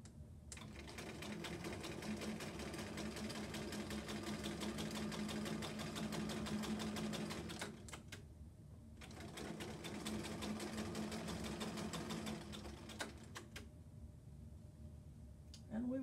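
A sewing machine with a walking foot stitches a quilt in a fast, steady whirring hum that runs in two long stretches separated by a short pause, and a voice speaks softly over the machine.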